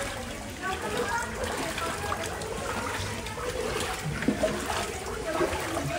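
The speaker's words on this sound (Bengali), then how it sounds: "পুরো সকাল থেকে বৃষ্টি হচ্ছে।" Heavy rain pours over a flooded town as floodwater flows through the streets, making a steady, dense wash of splashing water with no breaks.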